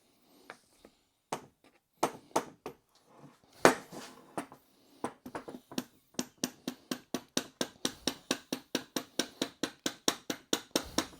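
A brass hammer knocks apart a BSA wedge-tank motorcycle gearbox in a workshop, starting with scattered sharp metallic taps and settling into a steady run of evenly spaced, ringing blows.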